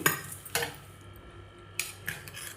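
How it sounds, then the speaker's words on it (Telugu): Hot tempering being poured into coconut and curd chutney in a kitchen, heard as a few sharp metallic clinks of a pan or spoon against a bowl, spaced apart with brief quiet gaps between them. "ఇప్పుడు ఈ పోపుని దీంట్లో వేసేసుకోవటమే"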